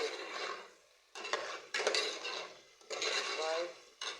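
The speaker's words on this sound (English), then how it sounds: "Then I'm going to stir thoroughly also, and then" Jollof rice frying in a pot, stirred in bursts of close scraping and clattering against the pot, with short pauses between strokes and a faint sizzle underneath.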